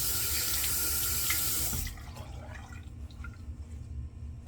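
Water gushes loudly from a tap during a hot towel and head shave, then drops after about two seconds to a softer trickle with light splashes.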